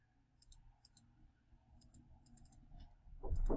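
A few sharp, faint clicks from a computer mouse button, scattered through otherwise quiet room tone, with a louder rustle at the end.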